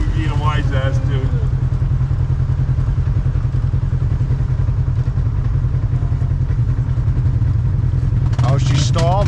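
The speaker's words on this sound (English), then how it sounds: "Why is he backfiring? Oh, backfiring." Motorcycle engine backfiring after stalling, heard as a loud, rough, continuous low engine rumble with clattering pops, while people talk over it.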